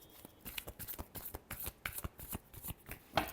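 Tarot cards shuffled by hand, a rapid run of soft riffling slaps and flicks repeating through the whole stretch, close and clear with no speech.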